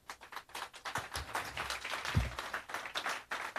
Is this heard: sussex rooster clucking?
no